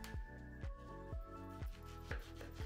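A knife cuts tomatoes into slices on a board with about half a dozen soft, evenly spaced cuts, close and quiet in a calm kitchen.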